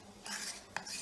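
A utensil stirs akara batter in a bowl, giving soft repeated scraping and clinking against the bowl's side with one sharper knock, close and fairly quiet with no talking.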